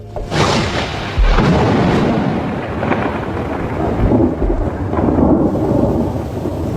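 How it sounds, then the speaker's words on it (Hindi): A thunderstorm over Kakadu in Australia: deep rolling thunder booms and crashes over a steady wash of heavy rain, loud and close with repeated rumbles. "बरसात आ चुकी है।"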